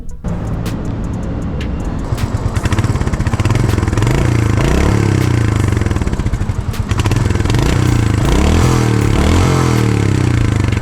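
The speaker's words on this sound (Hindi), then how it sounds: "मुझे इस बाइक का सबसे प्यारा इसका एग्जॉस्ट नोट लगता है।" A Royal Enfield Hunter 350 motorcycle rides along loudly up close, its thumpy exhaust rising and falling with repeated revs and gear changes, with scraping clatter early on.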